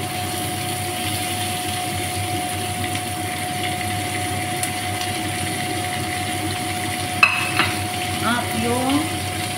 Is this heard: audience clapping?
no